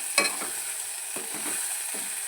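Sesame, ginger paste and turmeric fry in a pan for a bitter gourd curry. There is a steady high sizzle, with several scraping stirs of a spatula spaced through the short stretch and no talking.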